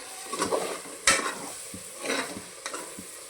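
Masala for tomato bath frying in oil in a pan while being stirred, with repeated scraping strokes of a spoon and bursts of crackling sizzle, close and moderately quiet, with a sharp clack partway through.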